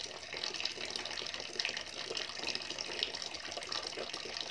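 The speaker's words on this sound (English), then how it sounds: "my storage tank is draining" A storage tank in a sump, flow and level measuring demonstration rig drains with a steady, faint trickle of running water and no pauses.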